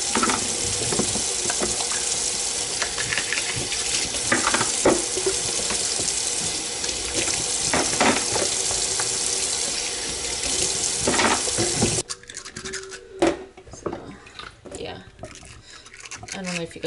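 Water runs steadily into a sink at home, a broad rushing splash that continues for about twelve seconds, then cuts off, leaving scattered drips and small clinks in a quieter room.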